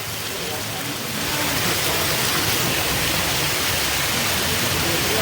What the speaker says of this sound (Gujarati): ફૂલ વરસાદ ચાલતો છે